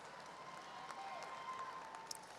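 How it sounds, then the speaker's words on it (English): Faint, distant applause from a commencement audience honoring graduates' parents and friends at the ASU Fall 2023 ceremony, a steady wash of clapping throughout. "So a round of applause again for all of you who supported our graduates."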